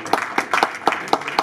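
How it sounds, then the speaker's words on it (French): An audience applauding at a conference honouring builders of the DRC, with short bursts of clapping recurring in a steady rhythm, fairly close and moderately loud. "On applaudit le King Masala."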